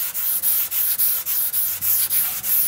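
A car body panel from an Oettinger TCR Street Kit being hand-sanded with 240-grit paper on a hard block. Steady, rhythmic scratchy rasping strokes follow one another about three per second, close and loud.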